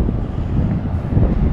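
Wind at Lebec buffets the microphone, a loud continuous low roar with gusty fluctuations and no voices.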